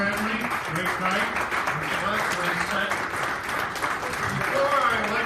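A crowd at a civic meeting about saving Century II bursts into loud, continuous applause for honored speakers, with voices talking over the clapping throughout.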